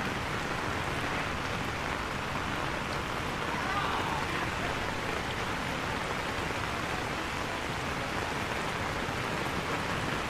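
Heavy rain pours steadily in Sapa, Vietnam, during the rainy storm season, with a dense, constant hiss that never lets up, drumming on surfaces close by.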